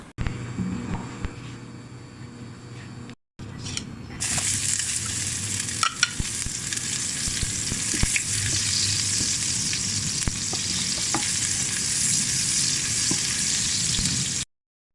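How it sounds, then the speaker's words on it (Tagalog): Garlic and onion hit hot oil for a pork giniling dish, first with a brief quieter patch and a short gap, then a loud, dense frying hiss that holds steady alongside occasional light spatula clicks. "unahin natin sa paggisa ng bawang at saka sibuyas"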